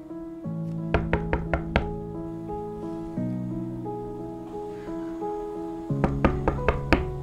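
A door being knocked on: a quick series of about five raps, then a second burst near the end, heard over soft sustained background music.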